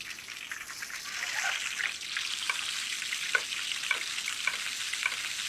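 Halibut basted in a hot pan gives a close, continuous sizzle of frying fat, with light spoon clinks and splashes ticking in at irregular intervals.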